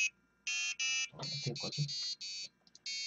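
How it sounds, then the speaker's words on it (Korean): An Arduino piezo buzzer on a homemade ramen timer beeps in repeated shrill bursts, while someone speaking Korean talks between and over the tones. "지금 부저가 울리기 때문에 그런 건데"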